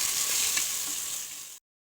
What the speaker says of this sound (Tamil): தக்காளி பழத்தை சேர்த்து நல்லா வதக்கிடுவோங்க